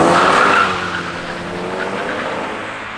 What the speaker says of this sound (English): In person, it does have a little bit of a throat to it when it drives away.